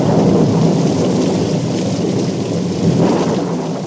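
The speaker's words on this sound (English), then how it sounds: "There he lay while the rain came down in torrents, and thunder roared and lightning flashed" A heavy storm roars without a break, as dense pouring rain mixes with deep rolling thunder. The whole soundscape stays loud and close with no voices.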